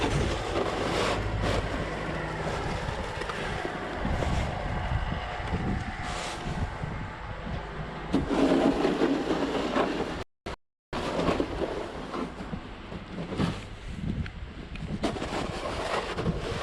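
Tractor without tire chains driving along a snowy farm track, a steady low engine drone mixed with heavy wind buffeting the microphone, continuous and fairly close, with a brief dropout midway.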